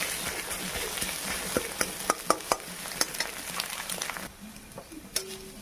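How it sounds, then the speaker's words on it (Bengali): Egg scrambled and stir-fried in a pan for jhal muri, with a steady crackling sizzle throughout and repeated sharp clinks of a spatula scraping and tapping the pan, close and fairly quiet, with no talking. "ডিমটাকে ভালো করে ভুজিয়ার মতন ভেজে নিচ্ছি"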